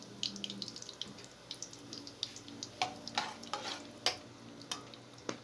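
Whole spices crackle in hot cooking oil in a wok, a quiet sizzle punctuated by sharp pops and spatters at uneven intervals, close by, with no speech.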